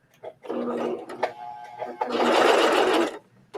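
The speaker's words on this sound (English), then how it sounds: "So because I can stitch right from there to the next piece" A home sewing machine stitches fabric in two bursts, a short run then a longer steady whirring stretch, close and fairly loud with brief quiet gaps and small handling clicks.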